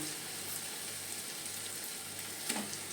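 Marinated chicken sizzling and frying in a pan with tomato and onion, a steady close hiss that runs throughout with a brief louder crackle near the end; no one talks.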